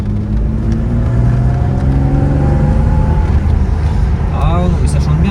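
A BMW E36 TDS diesel engine with a stainless steel exhaust revs steadily with a slowly rising drone, close and loud throughout, while people talk over it.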